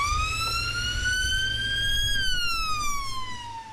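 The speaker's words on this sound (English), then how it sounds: "And the chilling sounds no one wants to hear. As an ambulance rushed by taking the injured to hospital" Ambulance siren rushing past on a flooded street, a single loud electronic wail that rises steadily then drops in pitch as it passes, with a low rumble of traffic underneath.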